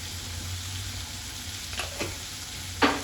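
Cluster beans and onions sizzle and fry in oil in a pan, a steady soft crackle broken by a few sharp stirring scrapes, close and with no talking.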